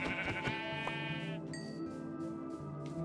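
Sheep in the Minecraft video game bleat with a wavering, buzzy cry lasting about a second and a half, followed by softer tonal game sounds with no talking.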